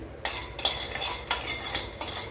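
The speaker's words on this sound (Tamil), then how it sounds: "இது நல்ல பாதாம் வந்து வறு வறுபடட்டும்" Almonds roasting in a pan being stirred, with sharp rattling scrapes of a metal utensil against the pan in quick bursts over a soft background hiss, close up, no speech.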